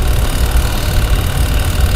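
The dryer motor of a washing machine spins steadily, a loud, continuous mechanical hum and rumble with no pauses or talking.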